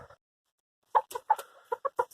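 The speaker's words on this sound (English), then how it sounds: "A little Banty rooster. Bantam." A small bantam rooster gives a quick series of short clucks, close by, after a brief pause of near silence.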